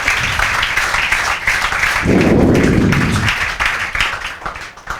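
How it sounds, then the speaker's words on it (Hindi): Students in a classroom clap for a classmate ranked second, a dense burst of hand claps swelling in the middle over busy room noise and taps. "बजाओ भाई लक्ष्य सदाना के लिए जोरदार तालियां, सेकंड रैंक के लिए बजाओ"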